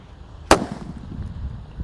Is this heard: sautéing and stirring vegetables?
no